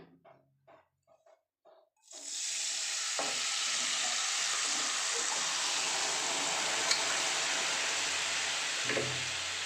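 A liquid mixture for a chana malai masala curry with chickpeas is poured into a hot pan after a few soft knocks, then bursts into a loud, steady sizzle that holds unbroken to the end.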